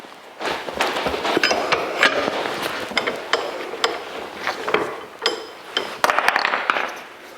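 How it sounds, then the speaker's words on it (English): A crimper clamped in a vise squeezes a spark plug wire terminal on a 1982 Jeep CJ7 job, giving close metallic clicks, clinks and scraping handling noises in an irregular run. "With our crimper into the vise, we'll just crimp it up."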